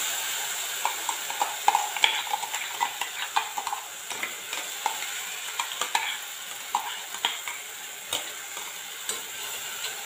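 Small bananas are stirred and sautéed in ghee, a soft steady sizzle broken by repeated clicking scrapes of a spoon against the pan, irregular and close.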